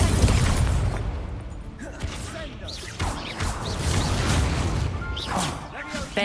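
Fire spells cast in Hogwarts Legacy combat burst and whoosh amid a busy mix of impacts, crashes and effects, with a voice talking over the chaotic, continuous action.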